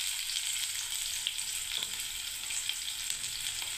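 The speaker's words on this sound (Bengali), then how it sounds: "এই পেঁয়াজটাকে ভেজে নিচ্ছি।" Onions frying in hot oil while preparing sooji upma for breakfast, a steady close sizzle with faint crackles throughout.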